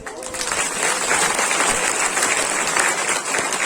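An audience at a religious satsang gathering claps for the volunteers, a dense, continuous burst of applause that stays loud and even throughout.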